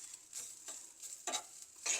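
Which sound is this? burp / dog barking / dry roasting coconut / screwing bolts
dry roasting coconut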